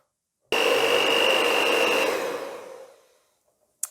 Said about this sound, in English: take a hand mixer, an electric hand mixer, and mix it all in one go